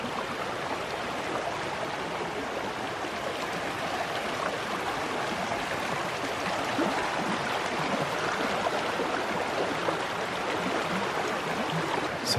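A swollen creek rushes steadily at a campsite up in the woods, a dense, continuous broadband roar of flowing water with no letup and no voices.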